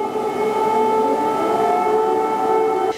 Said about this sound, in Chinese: 周三，乌克兰首都基辅也响起空袭警报